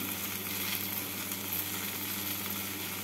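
Okra and potatoes frying in a pan with salt, turmeric and chili powder, a steady dense sizzle holding evenly throughout, close and uninterrupted with no voices.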